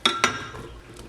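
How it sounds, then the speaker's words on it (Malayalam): Cut mango pieces dropping into a steel mixer jar for a mango coconut smoothie, giving two sharp close clinks followed by softer settling taps. "അത് ഞാൻ ഈ മിക്സിയുടെ ജാറിലേക്ക് ഇട്ട് കൊടുക്കുക കേട്ടോ."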